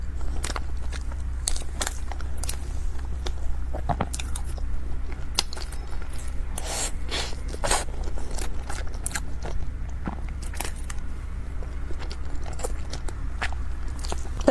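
Crispy taro paste snacks are bitten and chewed close to the microphone, with sharp crunches scattered unevenly over a long stretch of steady chewing and low background hum.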